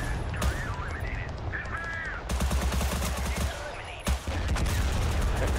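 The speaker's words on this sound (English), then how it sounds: "The airstrike kind of scared them off." Airstrike explosions and gunfire in the war game Total Conflict: Resistance, heard as dense, rapid cracking bursts that keep rolling on, with sharp, heavier blasts near the two- and four-second marks.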